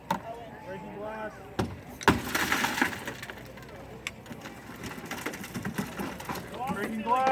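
A car window shatters during a fire department vehicle extrication demonstration at an open house, a sharp crack followed by a crunching, crackling burst of breaking glass, with outdoor rumble and people talking nearby.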